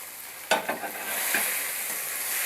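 Potatoes fried earlier with salt and turmeric stirred into sizzling spices in a pan for a fish head dish, a steady hiss with a couple of sharp spatula scrapes near the start.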